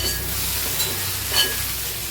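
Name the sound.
plantain and okra frying in oil in a pan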